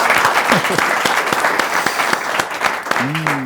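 An audience claps for a camera operator at a live show, loud crowded applause with sharp individual claps throughout and a voice speaking briefly near the end.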